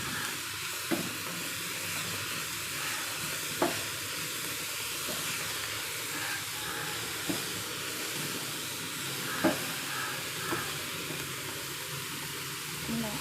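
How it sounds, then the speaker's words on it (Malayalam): Cabbage thoran is stirred in a pan over low heat: a soft, steady sizzle with a few sharp spatula knocks spaced several seconds apart, fairly quiet and close, with faint talk. "നമുക്ക് ഇളക്കി കൊടുക്കാവേ"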